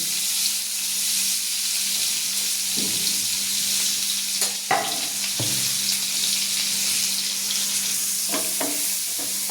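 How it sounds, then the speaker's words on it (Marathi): Chilies and onion frying in a pan, a constant bright sizzle with a few spatula scrapes and clanks at irregular intervals, close and unaccompanied by talk. "त्याच्यात आपली ही मिरची टाकू। कांदा पण टाकून घेऊ।"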